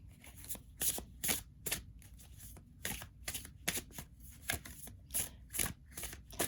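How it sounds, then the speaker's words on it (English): Large tarot cards being shuffled in a series of crisp, riffling bursts with short pauses between, close and fairly quiet, no talking. "you'll have to bear with me as I try to shuffle these cards because they're very, very big"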